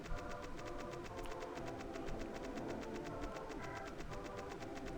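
Train rolling along tracks in the video game LSD Dream Emulator, a steady rhythmic clatter with repeating high ticks, continuous and fairly close throughout.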